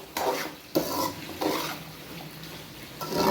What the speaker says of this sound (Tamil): கிளறி விட்டுடலாம்.